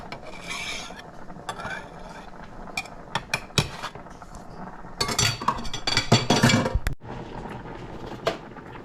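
A metal utensil breaks up a block of corned beef, giving scraping, rasping strokes and sharp clinks against the tin or dish, irregular bursts that grow busier midway, close and alone.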